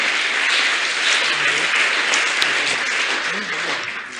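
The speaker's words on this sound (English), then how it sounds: "Give him a clap, please." Audience applause at a speech about scholarships, a dense steady clapping from a crowd that runs the whole time and fades slightly at the end.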